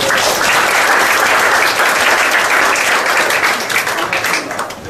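Audience applause at a university colloquium fills the room, a dense, loud and steady wash of many hands clapping that holds for several seconds before thinning slightly at the end.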